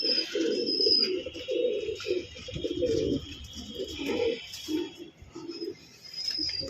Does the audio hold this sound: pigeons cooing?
yes